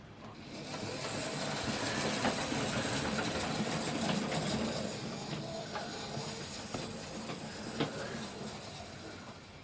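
A small model goods train hauled by a Collett Goods locomotive rumbles steadily along the layout track with faint clicks and clatters, a continuous low mechanical hum with no voices.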